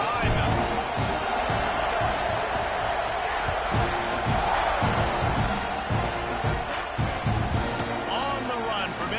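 A stadium crowd roars and cheers at an American football kickoff, a dense, sustained wall of noise with a play-by-play commentator talking over it throughout.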